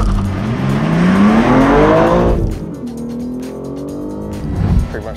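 A BMW M3 and a Cadillac CT5-V Blackwing, both manual sports saloons, launch hard in a drag race, engines roaring loud and close with rising revs, a gear change, then a fading, lower drone as the cars pull away.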